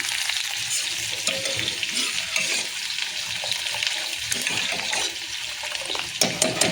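Cumin, chilli and onion tempering in hot oil for dal, a busy close sizzle and crackle with stirring scrapes and occasional clinks, louder taps near the end, no voices.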